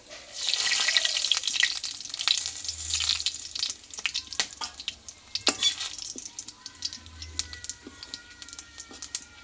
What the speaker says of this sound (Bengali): দেখো ফোড়নটা কিন্তু ভেজে নিয়েছি